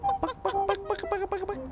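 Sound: chicken sound imitated in a video game

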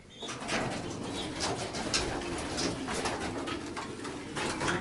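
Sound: young racing pigeons cooing and flapping in the loft

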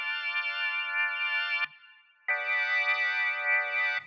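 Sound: organ rotary speaker effect

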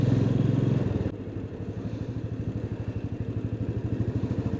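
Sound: motorcycle riding on main road

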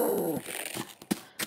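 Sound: dogs barking in video game Tomb Raider II Remastered

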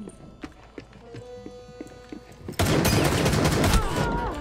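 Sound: gunfire in a video game

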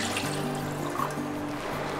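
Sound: one cup of water poured into pan

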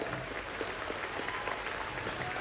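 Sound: audience applause

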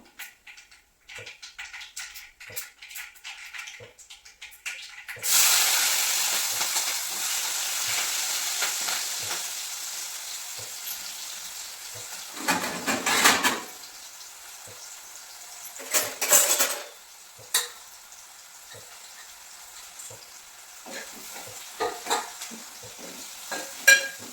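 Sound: green chillies and onions frying in hot oil

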